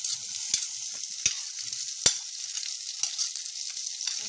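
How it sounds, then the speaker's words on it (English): Onions and green and red peppers fry in a little hot oil in a frying pan, a light sizzle punctuated by a few sharp spatula taps and clicks against the pan. "Spoon of oil in the pan, in the frying pan. And once it is a little hot, let's add all our veggies, that is onions"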